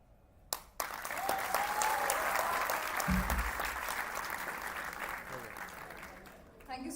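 An audience at a university induction program applauds for a performer, a broad steady wash of clapping that follows a couple of sharp knocks and carries on for several seconds, with some voices mixed in.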